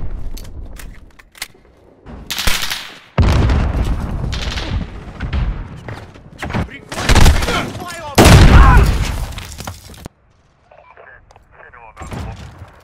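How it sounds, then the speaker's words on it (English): A cruise missile strike in Call of Duty: Modern Warfare on Hackney Yard, with several loud, booming blasts and heavy gunfire in bursts. A short quiet gap comes before more distant rumbling, with voices heard at times. "Cruise missile, go for launch."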